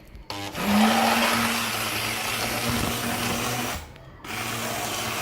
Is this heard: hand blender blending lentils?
yes